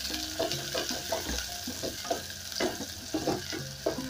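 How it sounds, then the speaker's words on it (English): Onion sautéing in a tablespoon of hot cooking oil fills the clip with a close sizzle, broken by repeated scrapes and knocks of stirring. "I'm going to sauté this for about a minute."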